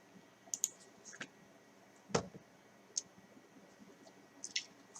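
Sharp, close mouse clicks sound singly and in quick pairs, spaced irregularly across a quiet room.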